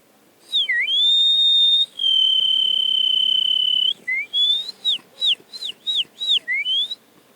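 A man whistles an imitation of birdsong: a pure, high whistled tone with swoops and long sustained notes, then a quick run of short chirping trills, loud and close against a quiet background.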